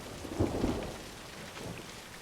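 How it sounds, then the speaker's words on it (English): Low thunder rumbles in two rolling swells over a steady wash of falling rain, the first stronger than the later, more distant one. "Even the sound of thunder"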